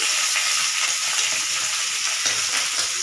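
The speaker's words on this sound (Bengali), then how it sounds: "মা ট্যাংরা মাছটি ভাজা লেগেছে" Steady, loud sizzling of tangra fish frying in a hot pan, a dense crackling hiss that continues without pause and no voices.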